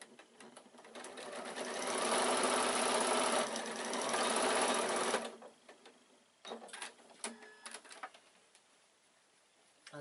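A sewing machine runs in a steady loud burst for about five seconds while stitching a quilted evening bag, then stops, leaving a few light clicks and handling sounds.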